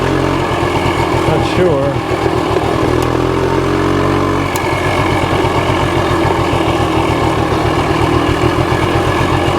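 A 1965 Montgomery Wards Benelli scrambler motorcycle idles with a steady, close mechanical putter that stumbles briefly midway before settling back into an even rhythm, while people talk over it.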